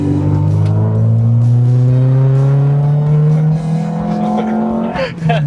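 Nissan Sentra B13 engine revving hard to high RPM, a loud continuous rising whine of engine harmonics climbing steadily over five seconds before easing off, close and dominant.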